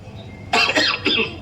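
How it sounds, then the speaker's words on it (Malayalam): A man with a lingering cough gives two or three harsh, throaty coughs in quick succession, close and fairly loud over a low background hum, with no speech. "ചുമയാണ് പിടിച്ചിട്ട് കുറെ നാളായി"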